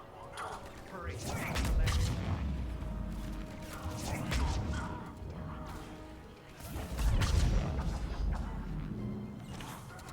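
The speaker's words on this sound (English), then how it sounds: "Oh, they threw a grenade over here." Explosions and gunfire in the video game Mass Effect 3, with rumbling booms, crashes and rattling mechanical bursts rising and falling over ten seconds, mixed with game voices.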